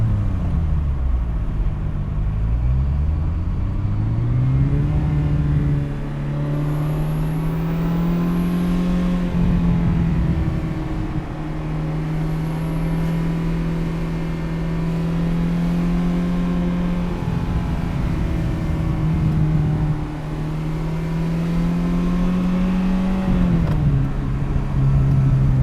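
A Ferrari 328 GTS with a transversely mounted 3.2-litre V8, heard from inside with the windows down, climbing steadily in revs through long pulls and dropping between gears, loud and continuous with a smooth droning engine note.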